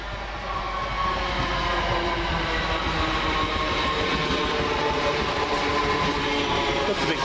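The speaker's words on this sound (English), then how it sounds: "the 1224 London Midland local service from Wolverhampton to Walsall via Birmingham New Street" London Midland Class 323 electric multiple unit 323241 pulling into Coseley station on a local Wolverhampton to Walsall service, a steady loud rumble of wheels and traction noise filling the whole stretch, close by with faint rail clatter.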